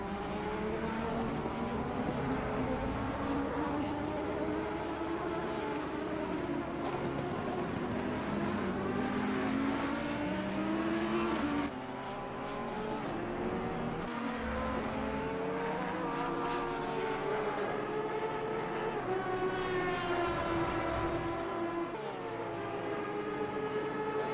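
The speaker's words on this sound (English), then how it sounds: "Oh, the sound of that car is phenomenal." A GT3 race car in a racing video game at the Hungaroring, its engine screaming loud and continuous through turn 1 with rising and falling harmonic pitch sweeps as it shifts gears.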